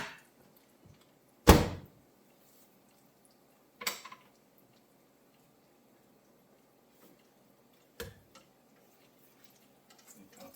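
A few sharp clunks and latches spaced several seconds apart as a microwave door is opened and shut nearby in a kitchen, in an otherwise quiet room.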